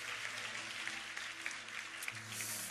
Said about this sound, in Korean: 감사의 박수 올려드렸으면